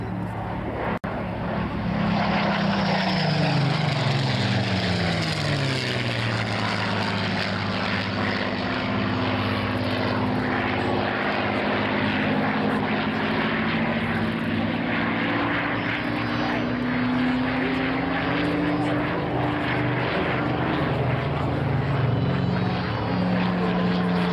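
Supermarine Spitfire fighters, a Mark 18 and a Mark 9 with Merlin engines, fly at an airshow, their propeller engines producing a continuous loud drone that shifts in pitch as the aircraft pass overhead.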